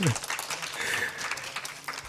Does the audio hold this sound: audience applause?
yes